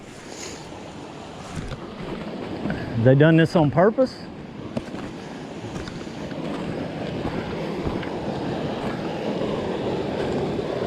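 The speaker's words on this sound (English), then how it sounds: "This is a water leak of some sort here, guys." Water rushes steadily from a broken pipe after a flood, a broad hissing gush that swells louder toward the end, with someone speaking briefly over it early on.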